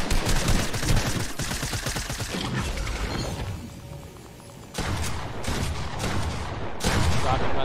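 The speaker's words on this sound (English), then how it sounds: "This shotgun's ridiculous." Shotgun fire in a Fortnite Battle Royale match, several hard, punchy blasts among busy rapid shooting, dipping briefly to a quieter gap in the middle before more loud shots resume.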